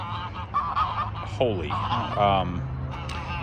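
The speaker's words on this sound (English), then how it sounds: "you can see the 2 geese there are super excited about it" Two farm geese honk excitedly in a few short, nasal calls that rise above steady background noise, with a voice speaking briefly alongside.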